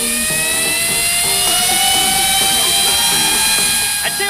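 A tall stack of ten fidget spinners whirs at high speed, a loud steady high-pitched whine with layered tonal hum held throughout without pause.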